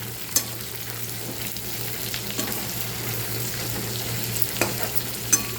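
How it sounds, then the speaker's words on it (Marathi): Masala of coriander powder and turmeric frying in oil, a steady close sizzle with a low hum beneath and a few sharp spatula clinks against the pan. "तेलामध्ये थोडीशी हळद घालायची आहे. चांगलं व्यवस्थित परतून घ्यायचं आहे."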